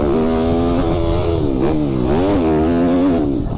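A YCF Bigy pit bike engine revs loudly up close, its buzzing tone rising and falling in several throttle blips over a few seconds, with no speech.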